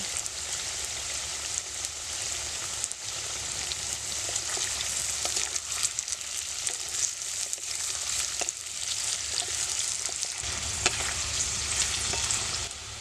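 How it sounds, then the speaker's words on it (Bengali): Carrots fry in hot oil with a loud, continuous crackling sizzle, punctuated by scattered pops and the scrape of stirring throughout. "আমি দিয়ে দিচ্ছি কেটে রাখা গাজর"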